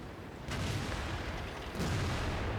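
Cannon shots from an AMX 50 120 tier 9 heavy tank in World of Tanks, two heavy booms with rumbling tails, the second following about a second after the first.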